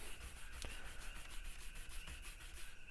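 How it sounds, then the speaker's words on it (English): Steady, close rubbing of conditioner along the frets and fretboard of a Schecter Omen 4-string bass, a continuous rhythmic scrubbing with back-and-forth strokes and no voices. "you're just rubbing it across your frets in your fretboard."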